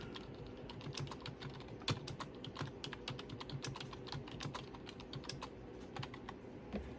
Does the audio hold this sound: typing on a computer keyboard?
yes